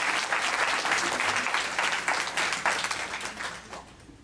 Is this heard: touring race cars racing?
no